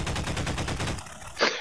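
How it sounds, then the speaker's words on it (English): A steady burst of SMG fire from Garry's Mod pops off roughly twenty rapid, evenly spaced rounds for over a second, then cuts out before a sharp single crack. "that SMG's doing some damage"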